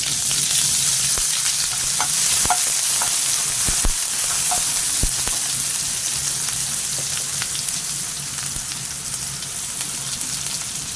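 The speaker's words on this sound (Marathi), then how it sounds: "मोहरी चांगली तडतडली की त्यामध्ये टाकणार कांदा टॅमॅटो" Mustard seeds crackling in hot oil in a kadhai as a Malvani-style tadka for moong bhaji, with onion and tomato going in; a steady loud sizzle with scattered sharp pops, no talk.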